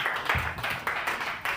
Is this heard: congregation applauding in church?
yes